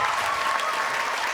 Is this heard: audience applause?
yes